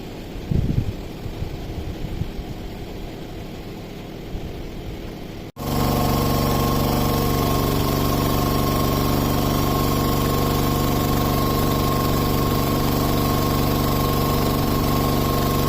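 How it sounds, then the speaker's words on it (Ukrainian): After a few seconds of quieter background, a natural gas powered generator rated about 5 kW starts running under load with a loud, steady engine drone and hum that holds unbroken to the end. "Протестував роботу генератора."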